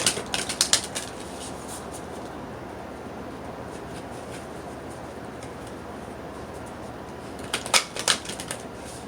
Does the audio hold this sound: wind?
no